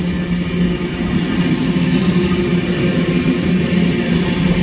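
A passenger train runs steadily on rails overnight on the way toward Goa, a continuous loud rumble and rattle of wagons heard from inside, without talk.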